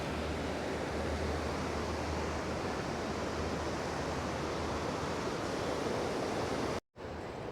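Distant waterfall in Canada roaring as a steady, even wash of broadband noise, with a brief dropout near the end.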